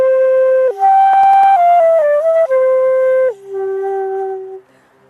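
Eerie synthesized tones imitating cicadas, sliding between sustained pitches with a brief pulsing tremolo, loud and alone with no voices before fading out.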